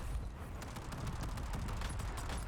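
Dense gunfire in the Warzone battle royale game, a rapid fusillade of shots running steadily throughout at moderate level, with a busy mechanical game mix underneath.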